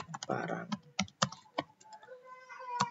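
Irregular keystrokes on a computer keyboard while entering data into a simple Python program, with a voice talking over the clicks.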